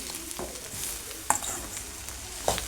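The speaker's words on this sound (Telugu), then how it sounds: "ఇప్పుడు కర్రీ అంతా ఇలా కలపాలి." Ivy gourd curry with coconut is stirred in a pan. A soft, low sizzle runs throughout, and a few sharp scraping knocks of the spoon stand out near the middle and the end, with no one speaking.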